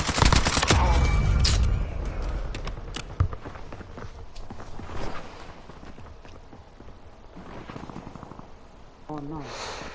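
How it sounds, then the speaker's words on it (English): Dense bursts of automatic gunfire from Call of Duty: Warzone, fired from behind the player, rattle through the first few seconds and then continue as sporadic shots under excited voices talking over the game. "That motherfucker's shooting behind me"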